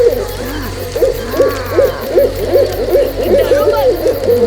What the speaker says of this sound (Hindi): भूत आने से पहले हमेशा एक उल्लू की आवाज आती है